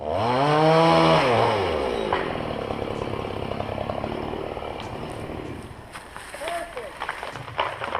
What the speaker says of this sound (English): A YouTuber named Justin Gansberg is sawing trees with his crew when he notices one starts to wobble his way.